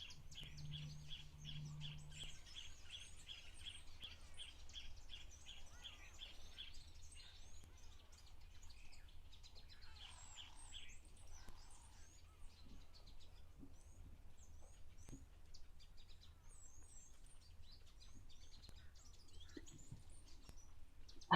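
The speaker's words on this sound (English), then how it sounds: "Lovely to just hear the sounds of the birds." Birds call at a waterhole, with rapid repeated chirps and scattered tweets at moderate distance over quiet ambient background, several different calls overlapping softly and continuing throughout.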